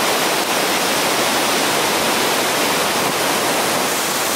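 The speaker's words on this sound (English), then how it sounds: "that's Panther Creek Falls in Washington" Panther Creek Falls in Washington roars as a steady, loud, broadband rush of falling water that stays unbroken throughout, with no voices over it.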